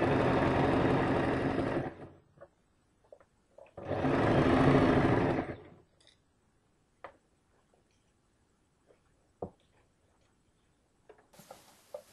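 A domestic sewing machine stitches the side slit of a kameez in two sustained runs of steady mechanical whirring, each about two seconds long, close and clear. Quiet clicks and handling taps follow in the pause between and after them.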